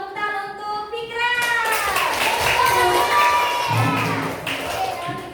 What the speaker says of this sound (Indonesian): tepuk tangan untuk Fikra